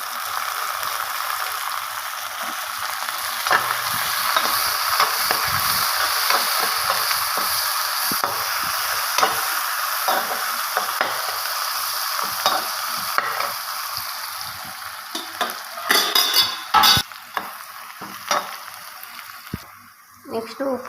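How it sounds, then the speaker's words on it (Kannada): Curry leaves and finely chopped dill greens fry in a pan for a ridge gourd stir-fry, giving a steady crackling sizzle with scraping stirs and a few sharper clatters near the end. "ನೆಕ್ಸ್ಟ್ ಇದಕ್ಕೆ ಸಬ್ಬಕ್ಕಿ ಸೊಪ್ಪನ್ನ ತೊಳ್ಕೊಂಡು ಈ ಥರ ಚಿಕ್ಕದಾಗಿ ಕಟ್ ಮಾಡಿ ಹಾಕ್ಕೊತಾ ಇದ್ದೀನಿ."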